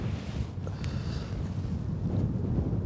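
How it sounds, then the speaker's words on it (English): Steady wind gusting across an open fishing lake in spring, a continuous low rumbling buffet that holds at a constant level throughout with no voices. "that wind has picked up again"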